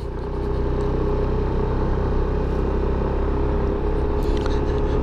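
A Yamaha NMAX 160 scooter engine pulls hard up a mountain road, a loud, steady, throbbing drone with rumbling road and wind noise and no talk.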